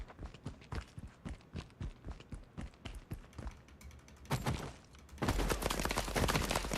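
Gunfire in a first-person shooter video game: a steady, rhythmic string of sharp shots, then heavier, denser bursts of fire near the end, with no talking.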